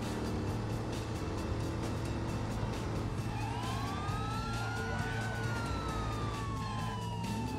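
A police siren in the video game Driver San Francisco wails over steady engine and road noise, its rising and falling tone sweeping through the second half of the clip.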